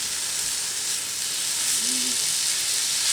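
Riced cauliflower with Italian seasoning frying in a cast iron pan, a steady close sizzle and hiss throughout with faint stirring.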